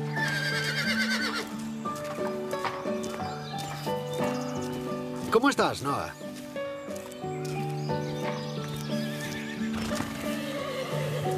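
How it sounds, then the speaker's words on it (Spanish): Horses at a stable neigh and whinny with hooves clip-clopping, set against a busy musical score, while people speak in Spanish over the top. "Hay que seguir los relinchos de los caballos."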